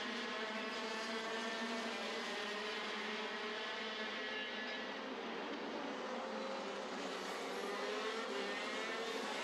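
Racing karts scream past on the South Garda Karting track during the WSK Final Cup, a steady, distant-sounding blend of high-revving small engines with no pauses, fairly faint and unaccompanied by voices.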